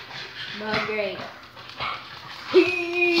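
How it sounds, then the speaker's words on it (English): A dog in the Minecraft video game whimpers and gives short yips and barks in several pitched bursts, while a person speaks over the sounds. "That's my dog."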